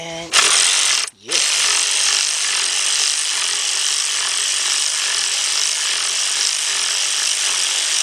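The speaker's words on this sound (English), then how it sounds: "I'm gonna use my cordless ratchet, and that bolt's not that tight" A cordless ratchet spins loosening a valve cover bolt on a Trailblazer-type SUV, a loud, steady high-pitched whir with rapid clicking that runs almost continuously after a brief pause.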